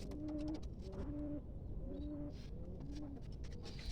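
Homing pigeons coo in a repeated rhythmic pattern, about four soft phrases nearby in a loft, with faint rustling and background noise around them.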